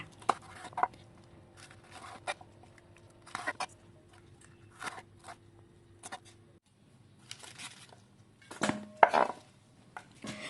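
A knife chops small cabbage sprouts on a cutting board in a home kitchen, giving sparse, quiet, irregular clicks and taps with short pauses and a couple of louder knocks near the end.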